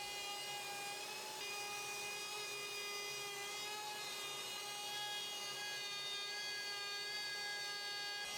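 A router cuts a recess for a table insert plate, guided by an acrylic template, a steady high-pitched whining drone with a bright tonal hum, continuous and even throughout with no talk.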